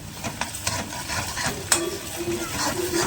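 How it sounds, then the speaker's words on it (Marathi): Chopped onion frying in a pan gives a steady close sizzle, with stirring scrapes and a sharp clink of a utensil against the pan partway through. "कांदा आपला चांगला फ्राय होतोय"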